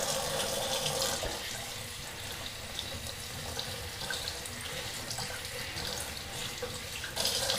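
Tap water runs steadily into a sink to rinse cleaner off a fixture, a continuous close splashing hiss with no talk.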